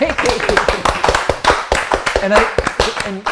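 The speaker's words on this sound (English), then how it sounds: "Round of Okay. applause" A small group of seniors gives a brief round of applause, with scattered claps mixed with overlapping talk and laughter nearby.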